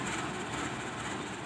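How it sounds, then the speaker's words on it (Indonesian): A shunting train reverses at Kutoarjo station in Indonesia, giving a continuous broad rumble of engine and rolling wagons at close range with no talking. "Nah ini kereta api langsiran ya,"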